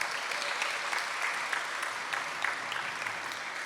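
Steady applause from an audience at a secondary school netball awards event honouring the girls, a continuous patter of many hands clapping, moderately distant and even.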